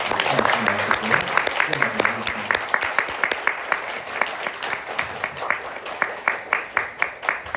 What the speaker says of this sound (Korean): 박수로 한번 또 축복하도록 하겠습니다